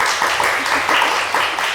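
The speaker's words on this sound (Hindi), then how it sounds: "तालियां जी, तालियां होनी चाहिए।" A studio audience at a Ramzan special TV transmission applauds with brisk, dense clapping that stays steady and moderately loud throughout.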